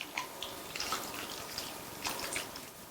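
Water trickles and splashes faintly into a pan holding cut pumpkin pieces for pachadi, a few soft close drips and pours spread over a few seconds.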